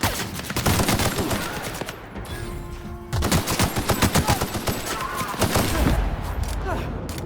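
Rapid bursts of weapon fire in The Outer Worlds video game, loud and close, with machine-gun volleys and scattered single shots continuing throughout amid game noise.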